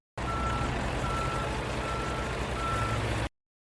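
A garbage truck backs up with its reversing beeper sounding a steady, repeated electronic tone over the rumble of the idling engine, loud and close for about three seconds.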